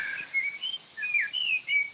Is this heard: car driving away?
no